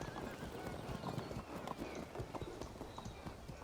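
Cavalry horses advance across a medieval battlefield in the strategy game Field of Glory Medieval, with a dense, steady clatter of many hooves close up and continuous across the whole stretch.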